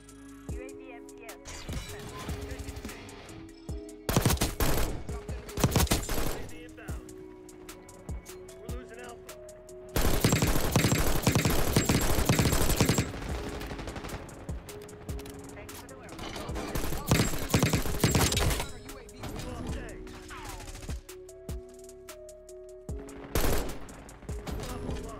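SWAT 5.56 rifle fire in Black Ops 6: sharp burst volleys arrive in dense clusters, loud and close, separated by quieter gaps with game ambience and footsteps.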